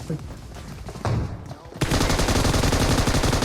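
Dense bursts of automatic gunfire in PUBG grow louder after a tense stretch with a few scattered shots, then hammer on continuously to the end.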